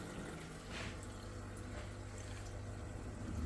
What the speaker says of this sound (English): Now that is a really good movement of water